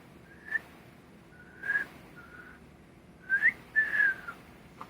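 A person whistles a few short tentative notes, some wavering or sliding, separated by pauses, close and fairly quiet.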